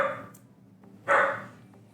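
A dog indoors lets out one clear bark after a soft yelp, close to the microphone, against a quiet room background during a Big Splash League broadcast.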